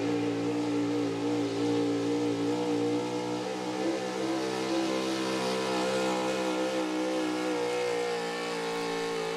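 An early 2000s Dodge pulling truck with a small block engine at a truck and tractor pull, revving hard and holding a loud, steady roar close by throughout.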